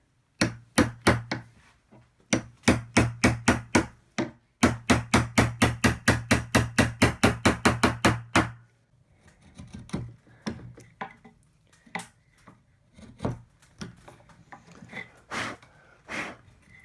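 Steel chisel striking and paring wood to square the rounded end of a router-cut mortise in a milled slab for a timber frame door: rapid runs of sharp taps, then slower scattered knocks and scrapes, close and clear with no talk.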